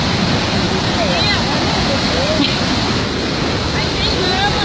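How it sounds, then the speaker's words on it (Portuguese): Cachoeira de Salto Botelho waterfall roaring as a loud, constant broadband rush close by, with no letup across the few seconds. "Aí pega até a cachoeira lá atrás."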